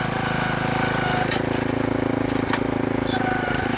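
A core aerator runs across a lawn, its engine putting out a loud, steady drone with a fast rhythmic chatter of tines punching into soft, wet soil, plus a few sharp clicks.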